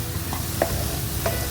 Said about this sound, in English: Okay, so this is when you add the butter in.